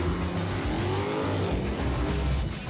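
Supercars, among them a turbocharged Gumpert, race hard in a loud, close roar of revving engines, with a continuous aggressive growl of acceleration and a faint tire edge.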